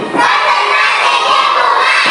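A classroom of children shouting and cheering together, a loud, sustained burst of young voices filling the room for about two seconds.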